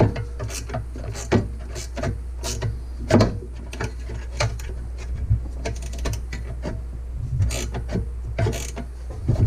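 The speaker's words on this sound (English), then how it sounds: "you'll use a 10mm wrench or socket and ratchet to get these tightened up to hold this into place" A socket and ratchet tightening the mount bolts on a Rugged power steering kit: repeated quick mechanical clicks come in short irregular runs, close and clear with no speech.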